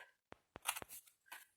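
A few quiet, crisp snips and rustles, like scissors cutting paper up close, spaced irregularly over a short moment.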